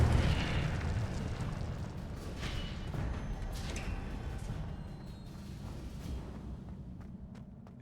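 Incendio fire spell cast in Hogwarts Legacy, a steady roaring, rumbling blast of flame that stays loud for several seconds and slowly tapers off, with small pops scattered through it.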